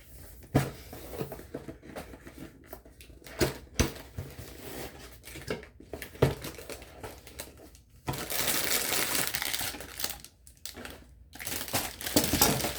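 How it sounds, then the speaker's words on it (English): Plastic packaging from craft haul items crinkles and crunches in irregular bursts, close and fairly quiet, growing into denser rustling toward the end. "Okay, you're going to hear crinkling."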